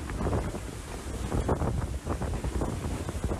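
Strong wind buffets the microphone aboard an Imoca racing sailboat, with rushing sea and hull noise underneath in a continuous loud roar.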